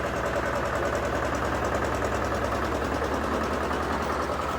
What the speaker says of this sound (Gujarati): ચલો અમારા ટ્રેક્ટર ચલાવાડી છે।